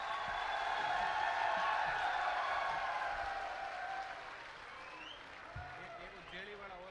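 Loud, sustained applause and cheering from a large crowd at an outdoor political rally, tapering slightly toward the end, with a voice rising over the clapping near the close.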